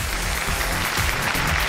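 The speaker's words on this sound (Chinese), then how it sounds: "来，掌声有请这一对" A studio audience applauds on a television show, dense, continuous clapping from a crowd that holds steady and loud for the short burst.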